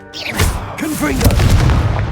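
A Confringo blasting curse explodes in the Hogwarts Legacy video game, a loud booming blast with rumbling low-end thuds layered over game music and effects, sustained across the short stretch.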